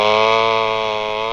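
Homelite XL chainsaw engine running at a steady high-pitched whine, loud and close, alone without voices.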